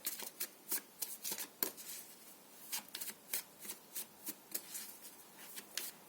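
Tarot cards are shuffled by hand in a quick series of crisp riffling bursts, about a dozen short flutters in an uneven rhythm, close and fairly quiet with no talking.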